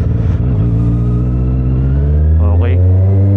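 A Honda CBR650R motorcycle's engine revs on a test ride, a steady loud drone with a quick rise in pitch near the end, a voice talking over it.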